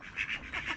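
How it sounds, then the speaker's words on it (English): Several faint nasal duck quacks from mallards, pochard and wigeon come in quick, uneven bursts, distant and soft against quiet outdoor background at a lakeside. "Whilst a miscellany of ducks, including little flocks of pochard and widgeon, join the ever-present mallard"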